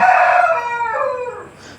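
A rooster at the Sunday poultry market in Peeleru lets out a loud, close, drawn-out crow that fades toward the end, with no voices over it.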